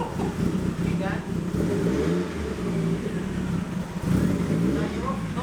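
A twin-turbo Ford Fiesta engine revs on a dyno, a steady droning roar that swells and falls, with people talking over it.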